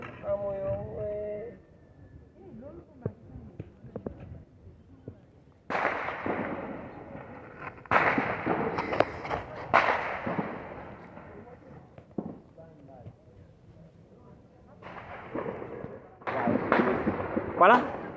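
Gunfire detonations ring out near the national palace in a city setting: sharp cracks and bursts, some in quick clusters, loud and echoing at mid distance, mixed with someone talking and other voices around.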